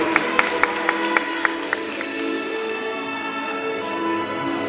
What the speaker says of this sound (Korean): 여러분 들 다시 한번 뜨거운 박수 부탁드릴게요